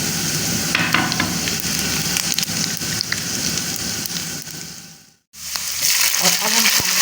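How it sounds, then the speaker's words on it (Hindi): Sliced onions fry in hot oil for a mixed vegetable pulao, giving a loud, steady sizzle close up with occasional stirring scrapes and a brief pause before the hiss resumes. "प्याज को हम कर लेते हैं लाइट ब्राउन"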